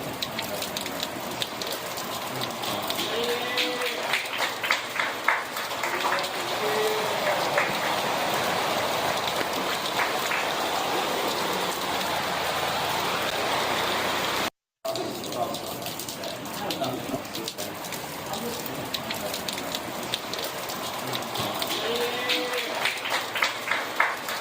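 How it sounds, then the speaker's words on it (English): Heavy torrential rain falls during a New York City downpour. It makes a dense, steady roar of water hitting surfaces, loud and continuous, with one very brief dropout midway. "So New York got slammed with rain"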